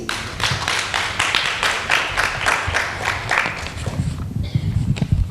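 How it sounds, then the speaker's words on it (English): A loud, dense round of applause from a seated symposium audience, steady rapid clapping throughout that thins out toward the end. "Another loud round of applause,"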